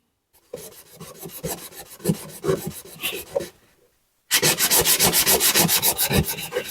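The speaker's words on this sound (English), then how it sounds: "I've got some 320 grit that I'm gonna sand down this edge" Sandpaper of 320 grit rubs back and forth along the edge of a 4L80E transmission filter in rapid rhythmic strokes, close and fairly loud, first in a softer burst, then after a brief pause in a louder, steadier run.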